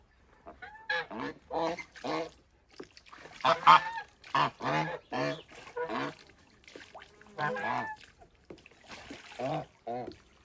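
Geese kept in a cellar, white ones among them, honking repeatedly in loud nasal bursts close by, calls coming in quick overlapping series with short pauses between.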